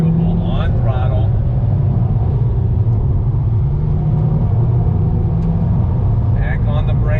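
A 2019 Subaru WRX STI S209 engine pulls on throttle from inside the cabin, a steady low rumbling drone with rising tone, loud and continuous, with brief bursts of other sound at the start and end.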